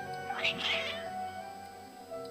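Agitated cats meowing in the video game Genshin Impact, a brief cluster of strained, wavering meows near the start, fairly soft over a steady background music bed.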